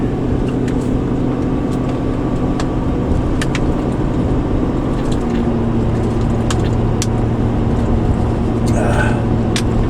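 A car drives along a rural road, heard from inside the cabin as a loud, steady engine drone and tire roar that continues without a break.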